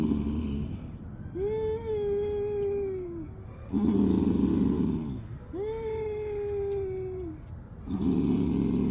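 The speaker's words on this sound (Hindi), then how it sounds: "कंठ से लेकर हार्ट तक, हार्ट से लेकर के कंठ तक मधुर खराटे जैसी आपको आवाज़ निकालनी है" Yoga throat breathing with the tongue held against the palate, slow breaths drawn in and out through the nose with a gentle snore-like rasp in the throat, heard up close in long repeated cycles, each followed by a brief rougher exhale, with no talking.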